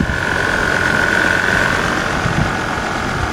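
An old engine idles after being started on stale gas, making a loud, steady, rough rumble with a sustained whine, close and continuous with no talking.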